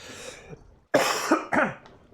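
A quick run of two or three harsh coughs up close, with throat-clearing, no speech.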